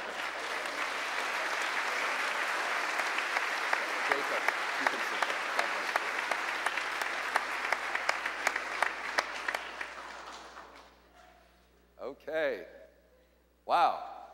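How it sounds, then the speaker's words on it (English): Church congregation applause during a confirmation service with a bishop, a sustained wash of many hands that thins into scattered claps and dies out around ten seconds, followed by a voice speaking briefly. "I think he deserves some applause"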